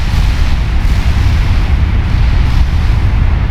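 Heavy naval gunfire from battleships in the game Ultimate Admiral Dreadnoughts, a dense continuous low rumble of booming shots that overlap into one loud, steady roar with no clear gaps between them.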